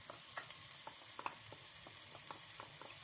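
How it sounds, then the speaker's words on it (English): Grated garlic and ginger fry in hot oil for fried rice, giving a steady soft sizzle with light stirring clicks scattered throughout, close and fairly quiet with no talking. "So once the oil is a bit hot, you want to add your grated garlic and ginger."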